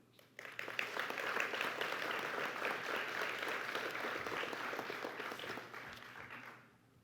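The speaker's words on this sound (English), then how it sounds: "Let's give one more round of applause for all of our graduates." Applause for graduates at a graduate school commencement ceremony, starting abruptly and swelling into a full hall of clapping that holds for several seconds before tapering off.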